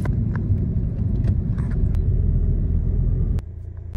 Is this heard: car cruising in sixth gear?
yes